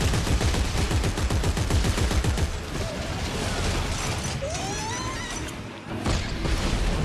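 Bursts of automatic gunfire with metallic mechanical clanks and crashes fill Dead Space 3 gameplay, loud at first, then thinning into scattered impacts and creaks before the firing picks up again.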